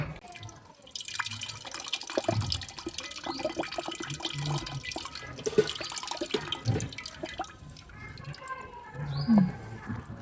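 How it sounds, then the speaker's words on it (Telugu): Tamarind-soaked water pours and drips steadily with small splashes and trickles, close by, alone without any talking. "అయితే చింతపండు నానేసిన నీళ్ళు అయితే పోసుకోవాలి"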